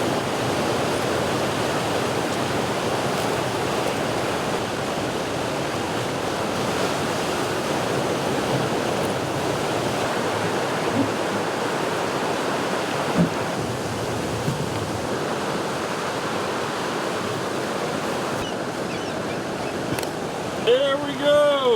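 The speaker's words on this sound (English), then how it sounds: "This is a bit of a pinch point, so the rapids raging here." River rapids rage at a narrow pinch point in northern wilderness, making a loud, constant roar of rushing water that lasts the whole time, with brief faint sounds near the end.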